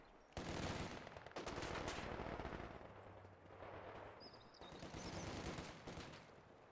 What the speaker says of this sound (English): setting up the MG to get some suppression off